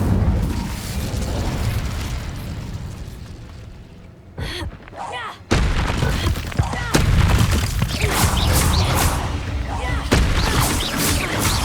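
Incendio fire spells blast repeatedly in Hogwarts Legacy, with loud bursts and booms coming one after another. Game effects and a voice fill the mix, dropping briefly before erupting again.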